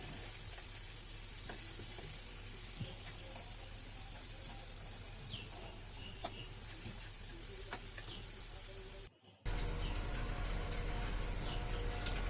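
Desi ghee sizzling in a cooking pot, a steady broadband crackle close by, cut briefly by a short gap before a louder, brighter stretch of sizzling, with no talking.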